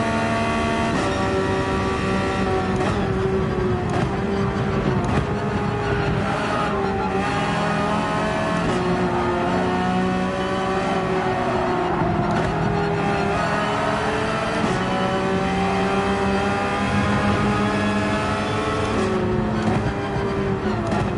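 A Gran Turismo 7 race car powers out of a turn under early throttle, its engine note climbing and holding loud and close in a continuous, unbroken roar with no talk.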